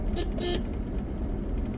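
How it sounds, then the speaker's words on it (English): Two quick car horn toots sound in a row over a constant rumble of engine and road traffic on a drive from Chiang Mai into the mountains. "Okay, so I'm honking like I'm in Vietnam."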